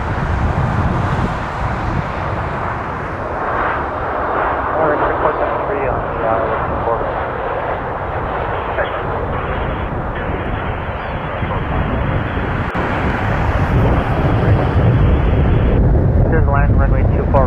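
A Flair Airlines Boeing 737 MAX from Vancouver at Toronto Pearson airport, its loud broadband jet engine roar steady and near, with a radio voice talking over it.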